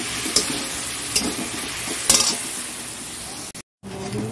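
Onions frying in oil in a pan with salt added, a steady close sizzle broken by a few sharp scraping stirs and a brief dropout near the end.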